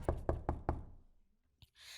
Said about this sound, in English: someone knocked loudly on the door